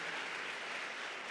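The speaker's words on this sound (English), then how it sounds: "That deserves claps." A crowd at a Las Vegas event with Vice President Kamala Harris breaks into brief applause, a dense, even wash of clapping heard alone at moderate loudness.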